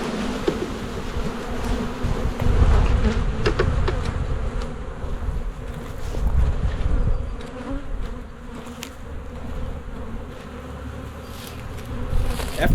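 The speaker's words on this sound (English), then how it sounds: "dump our bees into our hive myself" Honeybees from a package are dumped into a backyard hive, making a loud, continuous buzzing drone that swells and eases, close by and without voices.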